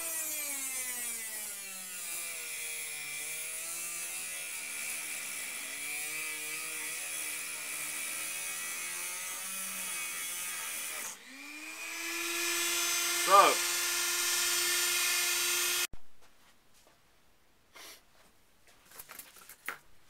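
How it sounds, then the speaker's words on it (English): A Dremel rotary tool whirs at length with its pitch shifting, then rises to a sharp high whine as it cuts through a blade wire. It cuts off abruptly and a few faint clicks and handling sounds follow. "I'm going to cut this wire."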